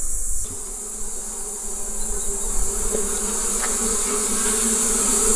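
Honeybees buzz steadily around an open beekeeping hive during a hive inspection, a continuous close, loud drone with a sustained high hiss and no talk.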